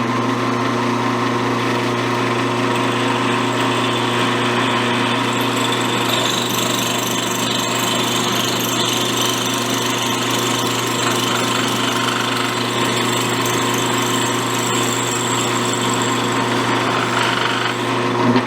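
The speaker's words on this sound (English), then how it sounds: "you want to be very light with the pressure on the drill and let the drill do the cutting" Drill cutting steadily through the dovetail of a lathe compound slide, a continuous high motor whine with a grinding metallic edge, close and loud, holding constant for the whole stretch with no talk.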